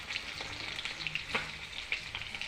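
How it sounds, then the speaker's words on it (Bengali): Fish fries in a pan with a quiet, continuous sizzle and a few faint crackles and taps, with no voices. "তো গাইস এই যে এখানে মাছটা ভেজে নিচ্ছি।"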